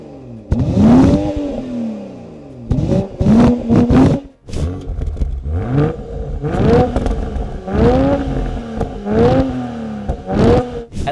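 A BMW B58 inline six-cylinder engine revs loudly over and over, heard from outside the car, each blip rising sharply in pitch and then falling, with a throaty exhaust roar and crackle between revs.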